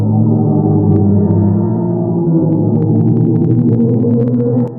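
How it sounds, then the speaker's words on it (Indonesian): NASA sonification of black hole data: a loud, dense drone of layered low, wavering tones that swell eerily and hold steady throughout, with faint higher flickers toward the end. "itu tadi adalah suara mengerikan dari black hole yang belum lama ini dirilis oleh NASA."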